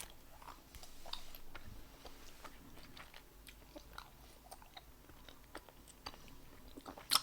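Korean bread-flavoured bubble gum being chewed close up, soft wet smacking and clicking mouth sounds repeating irregularly at low volume, with a sharper snap near the end.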